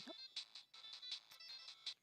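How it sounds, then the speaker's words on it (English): A phone ringtone for an incoming call, set to be very loud, plays as a rapid string of bright, repeating electronic chirps in quick pulses. "vamped up my phone to be obnoxiously loud whenever I got a call"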